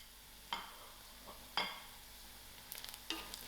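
Whole cumin seeds (jeera) frying in hot oil with golden fried onions, a faint steady sizzle broken by three or four sharp scraping stir strokes and a brief clatter near the end.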